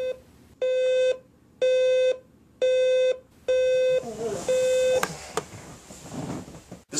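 Electronic alarm clock beeping in five evenly spaced bursts of rapid tones, loud and close, then stopping as someone fumbles with it, a sharp click or two and rustling following.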